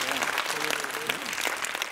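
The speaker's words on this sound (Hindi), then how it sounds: "पहले तो इसके नाम के लिए ताली बजा दो भाई" Audience at Patanjali Gurukulam in Haridwar clapping for a girl's name, a moderate patter of applause from a group with a speaking voice briefly audible over it.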